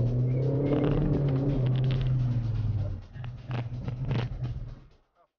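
Car accelerating in second gear during a driving lesson: a steady engine rumble with a low droning tone builds for about three seconds, then drops and resumes more unevenly before cutting off, heard from inside the car.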